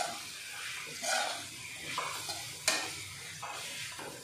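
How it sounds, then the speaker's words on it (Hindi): Potatoes being stirred into cooked spices in a pan for a sevai dish, giving soft scraping and a light sizzle with a few louder spoon knocks, close and with no one talking. "अब हम इनको अच्छे से मिक्स करेंगे।"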